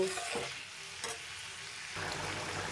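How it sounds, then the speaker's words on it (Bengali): Prawns stirred in a pan of simmering gravy with fried potatoes and pointed gourd, a soft steady sizzle with scraping spoon strokes and a brief clatter, close and fairly quiet with no talking. "এবারে চিংড়ি মাছ দিয়ে একটু নাড়িয়ে চাড়িয়ে নেব"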